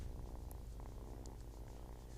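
A cat purrs softly and steadily up close, a low continuous rumble with faint small noises above it, and no one speaking.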